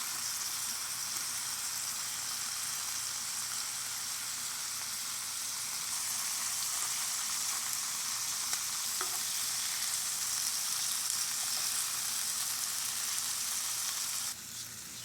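Shrimp frying in a hot pan for shrimp tacos, a loud, steady, close hiss and crackle of sizzling oil that continues throughout without talk.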